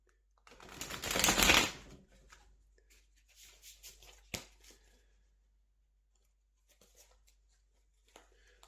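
Tarot cards being shuffled in a dense riffling burst, followed by quieter intermittent card handling and a sharp tap, close by with no talking.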